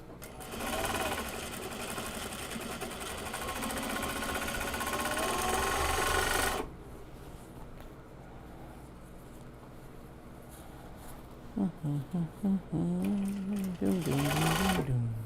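A sewing machine stitches the end seam of a small box bag, a loud rapid mechanical chatter running for several seconds before stopping, followed by quieter room sound, a voice, and short bursts of stitching near the end.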